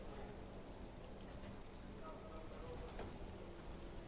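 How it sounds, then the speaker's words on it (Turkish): Hake fillets frying in hot oil in a pan, a continuous soft crackling sizzle at low level throughout, steady and unbroken, with a faint voice in the background. "Balıklarımız pişmeye başladı."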